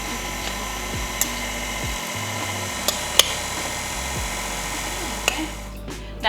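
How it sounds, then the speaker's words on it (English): An electric mixer beats buttermilk cake batter at steady speed, a continuous motor whir with a few sharp clicks and knocks as the beaters hit the bowl, briefly dropping in pitch partway through. "Turn the mixer on."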